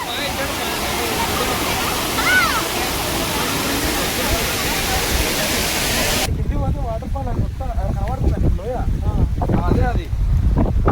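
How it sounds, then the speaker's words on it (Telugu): A steady, heavy roar of rushing water from a waterfall near Bhushi Dam, Lonavala, fills the scene, with people talking loudly over it in the second half. "అక్కడ వాటర్ ఫాల్ ఉన్నది మొత్తం"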